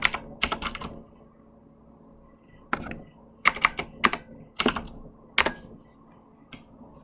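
Someone types on a computer keyboard in short bursts of sharp, close clicks separated by pauses, with a faint hum underneath.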